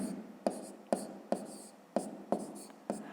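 Chalk or marker writing math numbers on a board in a classroom lesson, a series of about seven sharp taps and short scratchy strokes in an irregular rhythm, close and fairly quiet, with no talking.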